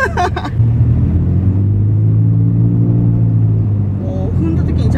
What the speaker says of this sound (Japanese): もう踏んだ時にちゃんと音が変わるのいいですね。